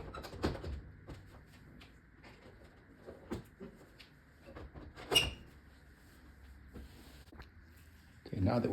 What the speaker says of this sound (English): We have to move this grate so that allows us to pull the door up.